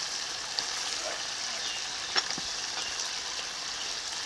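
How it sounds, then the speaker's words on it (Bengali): Duck meat and fried potatoes sizzle steadily in hot oil in a curry pot, a constant close crackling hiss with a few small pops and clicks and no voices. "মাংসটাকে কিছুক্ষণ কষিয়ে নিয়েছি, দেখুন কত সুন্দর তেল ভাজতে শুরু করেছে"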